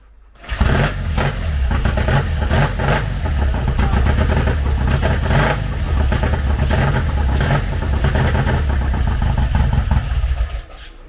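A BSA A65 Spitfire motorcycle engine fitted with new Amal carburettors fires up and runs loud and close, a steady rough twin-cylinder throb with some throttle variation before cutting off.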